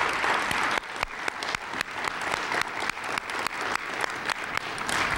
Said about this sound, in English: Let's give them a big round of applause as they come forward.